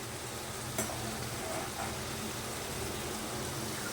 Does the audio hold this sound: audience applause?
no